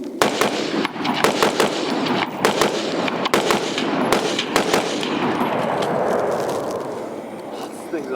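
A Palmetto State Armory JAKL rifle fires on an outdoor range: loud, sharp rapid cracks in an irregular burst, followed by a fading rumble of echo.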